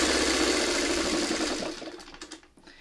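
Sewing machine stitching a quilt, a fast continuous mechanical whir and needle chatter that runs steadily, then slows and stutters to a stop near the end, close up with no talking.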